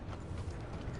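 Horse hooves clip-clopping in Red Dead Redemption II, a steady patter of soft thuds with faint mechanical clicking underneath, moderately quiet and close.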